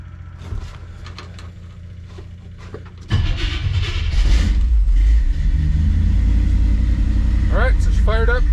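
A 1957 car engine cranks and catches, then settles into a loud, steady, rumbling idle close by, while a person talks over it.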